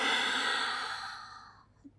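A long breath during a rest in a Pilates workout, a close airy sigh that fades steadily over about two seconds, followed by a faint short sound.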